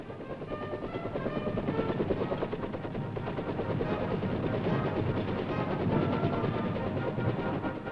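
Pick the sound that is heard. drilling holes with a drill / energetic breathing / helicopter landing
helicopter landing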